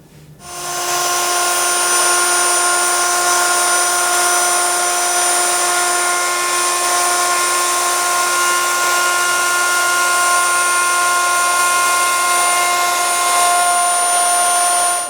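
A router spins up and holds a high, steady whine while cutting a chamfer around an electric guitar body, the tone loud and unbroken, with a sharp start at the beginning.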